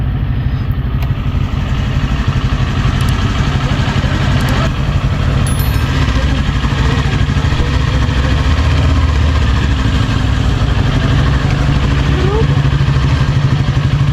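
A Kawasaki Ninja 400 sport motorcycle engine idles steadily and close by, a continuous low rumble through the whole stretch, with faint voices in the background.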